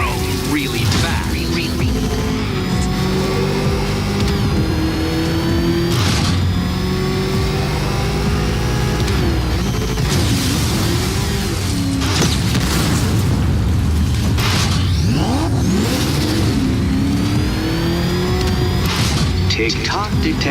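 The Batmobile engine revs in Batman: Arkham Knight, a loud continuous roar that swells and pitches up and down through booming impacts, with game voices talking over it.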